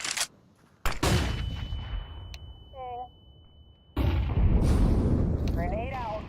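CS2 flashbang detonation: a sudden loud burst followed by a sustained ringing whine and roar, with a second loud blast later; brief voice callouts occur in between.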